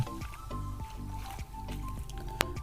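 Footsteps slosh and squish through the shallow water of the Khandi river, a repeated rhythmic splashing of wading strides with dripping and a sharp splash near the end, heard close.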